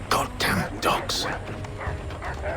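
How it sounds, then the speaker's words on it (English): Dogs bark in Assassin's Creed III, a few sharp yips and barks in quick succession amid a busy combat scene with voices talking over them. "Goddamn dogs."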